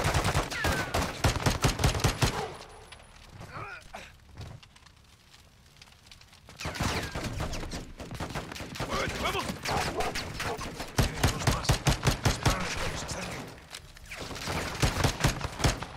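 Assault rifle gunfire in Call of Duty Modern Warfare 2: dense, loud rapid bursts and volleys in repeated stretches, with a quieter lull in the middle.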